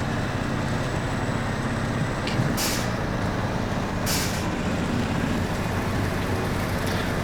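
Heavy truck engine droning steadily in the video game Snowrunner, with two sharp hissing air brake releases standing out partway through.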